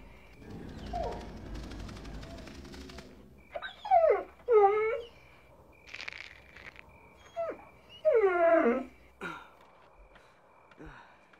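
A dog whimpers and whines in short high, wavering bursts, several clustered cries separated by pauses, close and clear over a quiet low rumble, with no speech.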